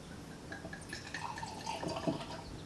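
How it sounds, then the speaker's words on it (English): Quarter Cut bourbon barrel aged Cabernet Sauvignon red wine poured from the bottle into a glass, a soft, steady liquid trickle with faint splashing, quiet and close, no talk. "Give it a pour."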